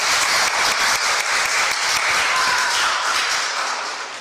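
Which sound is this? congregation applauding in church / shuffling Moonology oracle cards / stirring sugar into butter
congregation applauding in church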